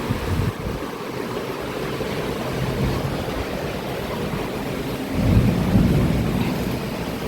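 Steady heavy rain with a deep rumbling wash throughout, swelling louder near the end, suggesting thunder in a storm outside.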